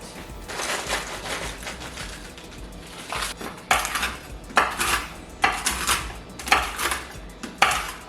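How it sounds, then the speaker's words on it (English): Pretzels being chopped on a board for blondie mix-ins, a run of sharp knife-and-board knocks and crunches coming in bursts of quick strokes, close and fairly loud with no talking. "I need to chop the mix-ins, which we have pretzels for that"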